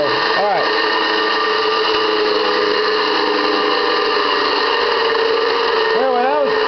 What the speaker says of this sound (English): Now I'm going to turn this off because this motor is pretty loud.